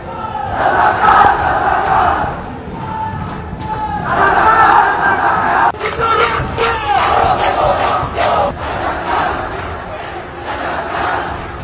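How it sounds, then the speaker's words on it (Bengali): Crowd of students chanting protest slogans on a university campus, loud rhythmic call-and-response shouts in repeated bursts, with sharp clapping and cheering between phrases. "ক্যাম্পাসে স্লোগান ওঠে, তুমি কে আমি কে, রাজাকার রাজাকার"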